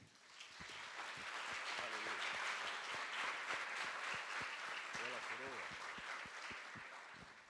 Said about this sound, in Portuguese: Vamos aplaudir o Rei